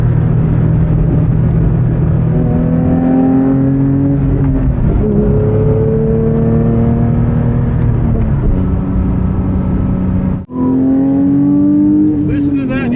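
A 2024 Porsche GT3 engine roars loudly from inside the car, climbing in pitch through several gears with brief dips at each shift, continuous and dominant throughout.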